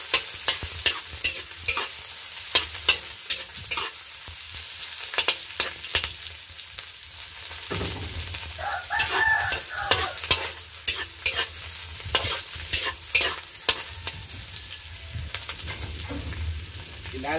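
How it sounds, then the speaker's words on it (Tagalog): Garlic and onion sautéing in a pan for backyard cooking: a steady close sizzle broken by frequent scraping and stirring clatters, with a bubbling burst midway, no voices. "ngayon magigisa na tayo ng bawang at saka sibuyas."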